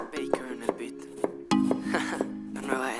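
A knife chops an onion into small cubes on a cutting board, giving a few sharp, irregular taps close by over a background hum.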